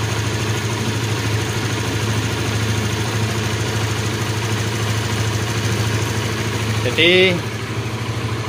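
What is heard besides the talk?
motorcycle engine idling after cold start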